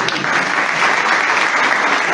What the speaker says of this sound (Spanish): Un aplauso para la señora que habló ella, por lo menos, ¿no?